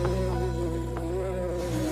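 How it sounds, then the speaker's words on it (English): Bee buzzing in a classroom scene from Power Rangers Super Ninja Steel, a loud continuous droning hum that holds steady for two seconds with slight wavering pitch, no voices. "And someone get rid of that bee."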